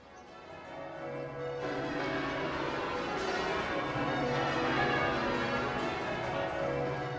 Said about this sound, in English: Church bells rang out across Britain in celebration of this first victory